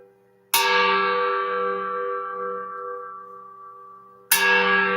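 A metal bell struck twice by hand, each strike bright and ringing with a long fading sustain, the first ring decaying for several seconds before the second begins; no talking.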